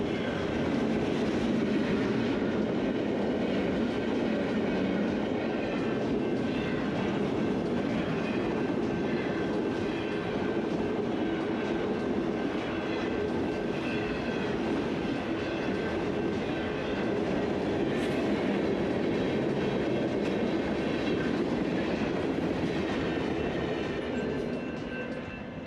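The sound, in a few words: freight train passing in Modoc County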